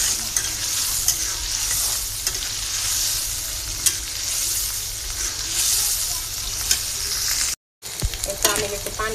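Sliced onions frying in oil in a pan while being stirred, a loud, steady sizzle close by with repeated scraping stirs and a brief cut-out near the end.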